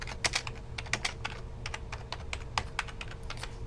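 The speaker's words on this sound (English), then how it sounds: "as soon as I start typing" Rapid typing on a computer keyboard while working in Excel, crisp irregular key clicks close to the microphone over a faint steady hum.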